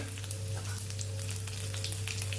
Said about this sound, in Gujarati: ઘી અને તેલ તેલનો બંનેનો વઘાર કરશું